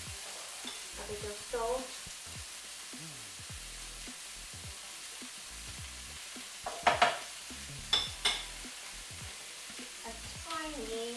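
Potatoes go into a pan of potato and aubergine curry and fry with a soft, low sizzle, broken by intermittent scraping and stirring knocks, while a voice talks at moments over the cooking.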